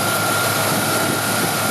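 A 1978 Lincoln Continental Mark V Diamond Jubilee's engine idling, a loud, steady and smooth hum with a constant low drone, heard close up and alone.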